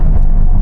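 A Volkswagen Golf GTI engine roars loudly and steadily on a quarter-mile run, a deep rumble of acceleration heard up close.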